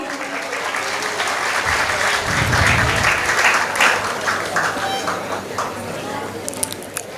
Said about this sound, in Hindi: मैं सभी से तालियों का साथ चाहूंगी।